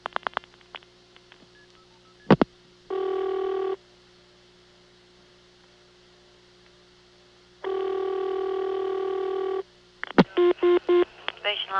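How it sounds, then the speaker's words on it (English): A call dialing out through a 1978 Siemens motor switch telephone exchange in Ocala, Florida: steady tone, mechanical clicks and dial pulses, two long ringback-like tone bursts, then rapid clicking and short tone pulses. "you can hear a call going out as if someone in the office had dialed it"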